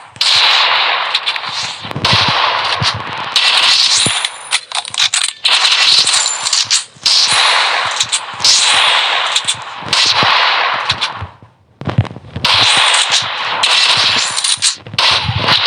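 Pump shotgun gunfire in the Free Fire video game, a loud fast barrage of sharp, cracking game shots with brief gaps between bursts.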